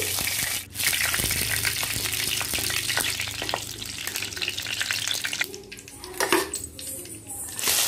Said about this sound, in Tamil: வெங்காயம் போட்டு நல்லா ஃப்ரை பண்ணோம்